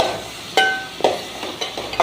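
Onion and tomato being stirred in a frying pan while cooking soya chunks roast, with soft sizzling and a few sharp scraping strokes of the spoon, close and moderately loud, with no talk.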